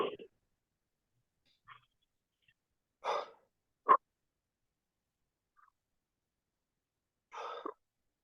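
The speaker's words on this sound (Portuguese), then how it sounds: "Então a gente vai puxar o ar 30 vezes, soltar 30 vezes." Deep breaths in and out during a guided breathing exercise: a few separate sharp inhales and exhales with long silent gaps between them, close and fairly quiet.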